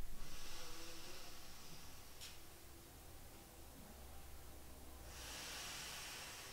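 Slow, deep breaths drawn into the belly and then the chest, heard as soft airy hissing inhales and exhales close up, steady and unvoiced, with no talking.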